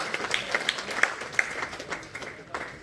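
An audience applauds the lighting of a ceremonial lamp at a Partition Horrors remembrance event held by the BJP in Banaskantha; scattered, uneven clapping rises and fades over a murmur of voices.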